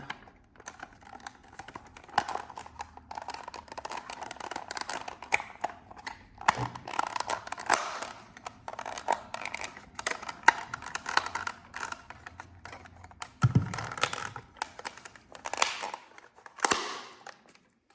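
Sharp plastic clicks and snaps from the inside rear-view mirror buttons of a W140 Mercedes-Benz S-Class being pressed, scattered irregularly over a quiet background, some in quick bursts.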